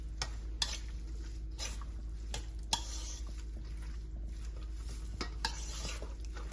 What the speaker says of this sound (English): let me just stir it in and set it aside